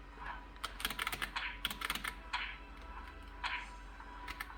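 Computer keyboard keys clack in quick bursts as fighting-game move inputs are entered, sharp close taps in irregular clusters with short pauses between them.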